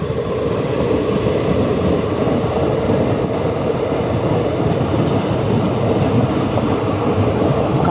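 Guwahati passenger train rolling past with a dense, steady rumble and rattle of wagons, loud and close throughout, no voices.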